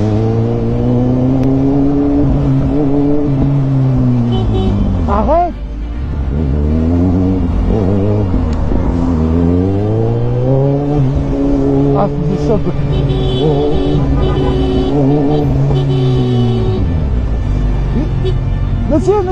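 A Renault Clio revs hard and accelerates away after hitting someone, engine pitch climbing and falling through repeated gear changes, loud and close, while someone speaks French over it.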